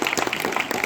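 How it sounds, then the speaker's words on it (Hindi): An audience of trainees at an institute breaks into quick, steady clapping, a brief burst of hand claps of moderate loudness with no talking over it. "ताली बजा दे भाई।"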